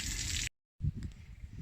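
Water gushes out of the drain of a camper RV water heater during winterizing, a steady close rushing flow that cuts out briefly and then resumes.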